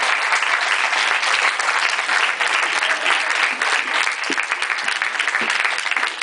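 Sustained, dense applause from a large theatre audience at a premiere, steady and loud throughout with no pauses.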